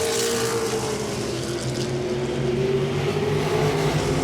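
Modified race cars roar around Langley Speedway during a 50-lap night race, a steady loud engine drone with a rising and falling pitch, no voices over it.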